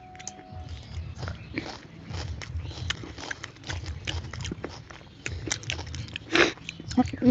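Someone bites and chews fruit close to the mic, wet crunching and chomping repeating throughout while people talk over it.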